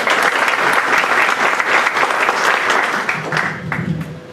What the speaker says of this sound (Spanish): recibámosla con un fuerte aplauso,